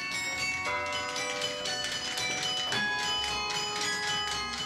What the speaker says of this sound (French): En haut du beffroi, jamais le carillon n'avait autant sonné.